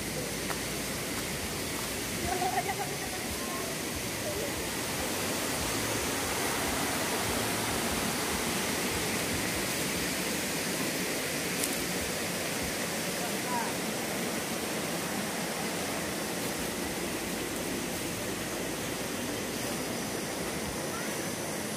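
River water rushes over the Sucen dam in Salatiga, a steady, loud, broadband roar that continues without a break throughout.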